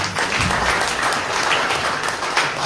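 A church congregation applauds during a sermon, a dense, steady wash of clapping that fills the room from start to finish without any speech over it.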